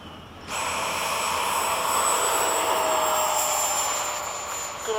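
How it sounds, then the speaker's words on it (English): An F-5 jet fighter takes off at an airfield, its engine roar rising abruptly after a brief quieter lead-in and holding as a loud, steady broadband whine with a high tonal line, staying close and alone without talk. "All right, taking off."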